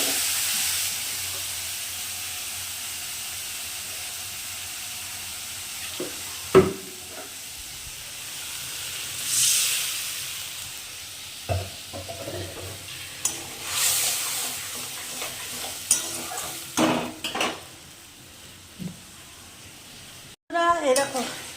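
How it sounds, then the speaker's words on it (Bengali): Prawns frying in oil with spices, cumin and bay leaf in a pan for a potato and pointed gourd curry: a steady sizzling hiss broken by occasional sharp clinks and scrapes of stirring, close and moderately loud. "এরকম চিংড়ি মাছ দিয়ে মশলাটাকে কষিয়ে নিচ্ছি ভালো করে।"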